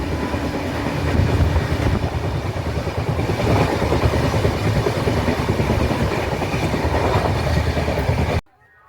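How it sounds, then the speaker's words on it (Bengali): The 12307 Howrah Jodhpur Express runs through a foggy night after leaving Howrah station, with a loud, continuous rolling rumble and rhythmic wheel clatter heard from inside the coach, cutting off abruptly near the end. "ট্রেন আমাদের হাওড়া স্টেশন ছেড়ে এগিয়ে চলেছে।"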